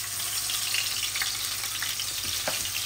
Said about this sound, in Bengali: মাছটা আমি একটু ভাজবো, হালকা ভাজবো।